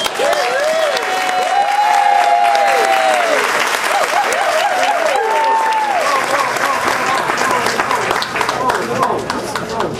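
Audience applause with some cheering fills a guide dog graduation ceremony as a blind graduate crosses the stage with a black Labrador guide dog; steady, loud clapping runs throughout while voices speak over it.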